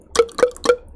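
A beatboxer's mouth makes three quick throat pop clicks in a row, each a wet, drip-like plop. The clicks form the basis of an imitated water-pouring sound, close and clear with nothing else around them.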